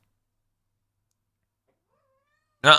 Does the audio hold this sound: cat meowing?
yes